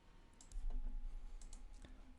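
A computer mouse clicks while Revit is in use, with a few faint, sharp clicks spaced out over a quiet low hum.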